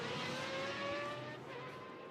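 Lamborghini, Corvette and Aston Martin race cars pass at Spa during an endurance race, engines droning and fading across a short stretch at moderate distance.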